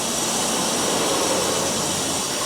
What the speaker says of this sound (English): And that's the sound of a lit water heater to me.